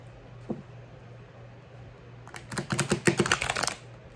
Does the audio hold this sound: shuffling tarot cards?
yes